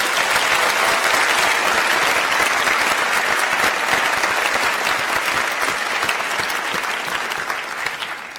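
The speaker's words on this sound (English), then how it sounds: "Let's have a round of applause for the families and friends here today." A large commencement audience in a ceremony hall applauds families and friends, a thick, sustained wash of clapping that stays loud throughout and eases slightly toward the end.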